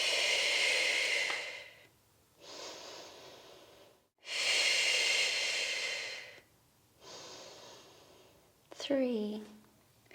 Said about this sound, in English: Exhale. Inhale. Exhale. Inhale.